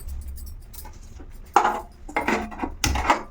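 A metal lid goes onto a cooking pot over a cloth-covered rice rava puttu, giving a few separate clinks and scrapes spaced over a couple of seconds, close and fairly quiet.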